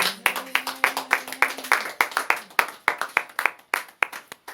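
Church congregation clapping in unison, a close, fairly fast rhythmic series of sharp hand claps that carries on for several seconds, with a brief sustained voice underneath at the start.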